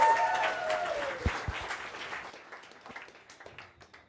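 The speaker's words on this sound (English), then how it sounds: "Let's give a warm round of applause for Alwin and his team" An audience at a talk on reef grazers applauds Alwin and his team. Dense clapping starts loud and fades gradually to quiet within a few seconds, with a couple of thumps early on.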